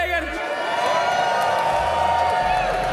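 Crowd at The International 2024 Dota 2 championship in Copenhagen, a dense roar of cheering and whoops filling the hall, with a person speaking over the noise.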